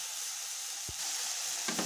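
Spice paste for a fish curry fries in a pan with a bright, steady sizzling hiss, broken by one dull low knock and a quick scrape near the end.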